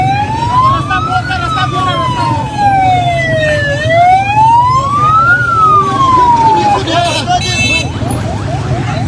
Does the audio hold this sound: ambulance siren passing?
yes